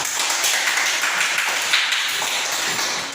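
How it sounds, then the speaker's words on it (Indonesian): A classroom of students claps steadily for a group that has just presented on traditional instruments, a dense, even patter of many hands lasting the whole stretch. "Tepuk tangan."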